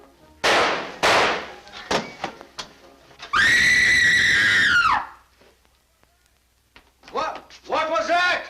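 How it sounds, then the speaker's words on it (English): A woman's long, loud, piercing scream in a 1945 film scene, sustained for nearly two seconds, preceded by sharp bangs and followed later by shorter shrill cries. "Who screamed?"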